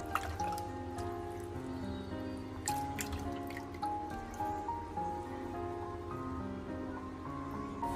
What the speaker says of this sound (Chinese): 尤其是大葱根须里面，一定要把它多清洗一下。